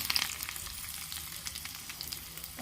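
Chana dal, dried red chillies and curry leaves fry in a pan with a continuous close sizzle and crackle, joined by faint stirring scrapes.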